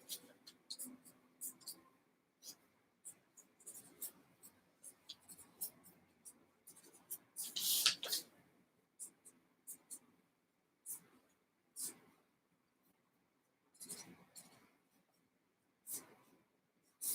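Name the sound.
drawing a circuit diagram by hand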